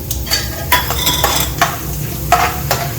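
Urad dal, chana dal and peanuts sizzling in hot oil for an avalakki uppittu tempering, with a steady close crackle and several scraping stirs of a spoon against the pan.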